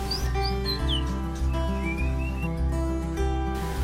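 Captive-bred Medan white-rumped shamas (murai batu) sing clear, sliding whistled phrases and chirps over a loud, steady low hum of background music, the song close and continuous.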